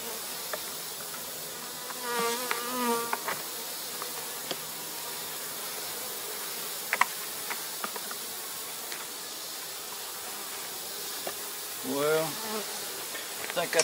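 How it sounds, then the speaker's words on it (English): Honeybees swarming over a pollen patty in an open Langstroth beehive, a dense close drone of many buzzing wings with individual bees flying past in louder swells, no talking. "All them bees is going at that pollen patty already lined up all the way around it."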